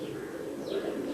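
Pigeons cooing, a soft, low throaty coo heard briefly against a faint background, with a light chirp mixed in.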